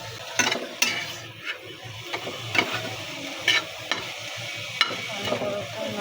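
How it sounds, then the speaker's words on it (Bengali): Cabbage sizzles in a frying pan with a little oil and salt while a utensil stirs it. The frying hiss is steady, and sharp scrapes and clicks of stirring come at irregular intervals, close up, with no talking. "বাঁধাকপিটা ফ্রাই প্যানে দিয়ে একটু ভেজে নেব"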